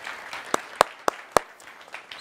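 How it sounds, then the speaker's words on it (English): Applause from an audience at a corporate capital markets day: four or five sharp, distinct claps rise over a soft background patter of lighter clapping in the room. "So a big applause to you."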